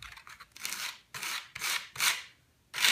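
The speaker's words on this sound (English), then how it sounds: "It really takes a few swipes of that sandpaper to finish a section" Sandpaper rasps over wood in five or six strong back-and-forth swipes, each a loud, close scratchy burst separated by short pauses, with no talking.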